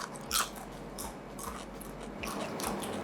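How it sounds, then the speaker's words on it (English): Crunching of dried organic beet chips: several sharp, crisp bites followed by close, quieter chewing crunches, with no talking. "Listen to that crunch."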